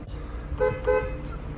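A 1994 Mercedes-Benz E320 convertible horn gives two short, close honks in quick succession over a low background rumble.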